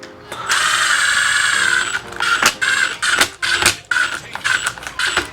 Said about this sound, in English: I am just going to use the impact to put them all in.